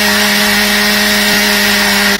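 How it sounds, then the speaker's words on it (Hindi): A kitchen mixer grinder whirs loud and steady, its jar blending roasted coconut into a fine paste for chicken Malvani curry, one continuous high-pitched motor drone with no talk. "अब हम इनको मिक्सर जार में फाइन पेस्ट बना"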